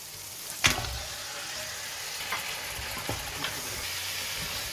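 Lamb sizzles as it drops into a hot pan of spiced onion mixture for a lamb curry, a steady close frying hiss with a sharp crackle at the start and a few scraping stirs, no talking.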